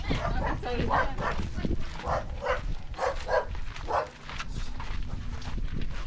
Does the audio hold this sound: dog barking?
yes